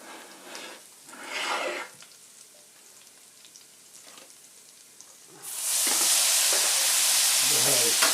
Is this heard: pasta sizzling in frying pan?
yes